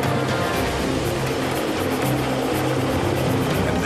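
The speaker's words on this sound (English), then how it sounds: "The chopper pilot begins to raise his cargo." A helicopter hovers while lifting cargo above slippery rocks by rough water, its rotor thrum a dense, continuous, loud drone with a steady beating pulse throughout.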